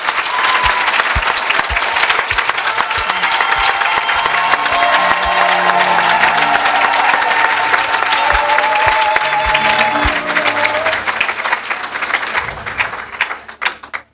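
Church audience applauding and cheering for Jesus at a French-Italian testimony gathering, loud sustained clapping from a crowd with scattered voices, fading near the end.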